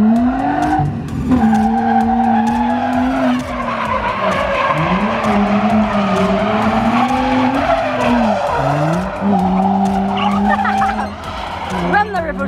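A van drifting, its tires squealing loudly and almost continuously with wavering pitch as the engine drones beneath, close and sustained throughout.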